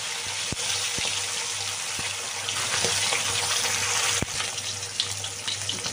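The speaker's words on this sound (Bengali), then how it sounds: "দেখো তেল গরম হয়ে গেছে, মাছগুলো আমি ভেজে নিচ্ছি।" Pieces of katla fish fry in hot mustard oil, giving a dense, steady sizzle and hiss with occasional sharp pops and spatters, close and loud with no speech.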